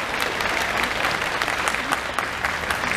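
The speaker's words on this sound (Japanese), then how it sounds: "大きな拍手をお願いいたします。" Audience applause greets the announcement of a professional baseball team's 2021 slogan, steady dense clapping from a large crowd filling the whole stretch without pause.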